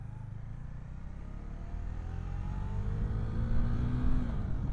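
Cars driving past on a road while a rider waits on a Husqvarna Vitpilen 401 motorcycle, a steady engine drone with rising whine as vehicles approach and pass, moderately loud.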